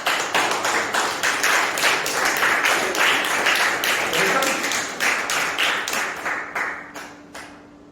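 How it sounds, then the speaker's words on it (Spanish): A church congregation applauds with brisk, closely spaced clapping that carries loud and steady, then thins out and fades to a few scattered claps at the end. "Denle un aplauso al Señor."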